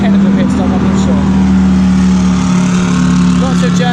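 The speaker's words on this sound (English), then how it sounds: "the car is just coming in now, might be in for a technical pit stop" BMW race car arriving in the pit lane during the Spa 24 Hours, a loud, steady engine drone with a strong low hum that fills the whole stretch, while voices murmur underneath.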